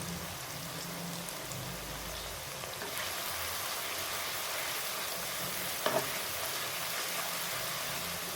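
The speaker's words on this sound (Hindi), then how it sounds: "ब्राउन होने तक मैं इसे फ्राई करूँगी" Mixed vegetables such as potato, peas and carrot fry steadily in a pan, a continuous broadband sizzle with a low rumble early on and a brief stir or clatter near the end, no voices.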